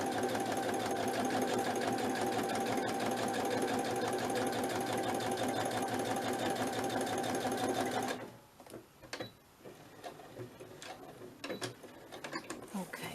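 A sewing machine stitches in a fast, steady, even rhythm for about eight seconds, then stops, followed by quieter handling sounds and light clicks.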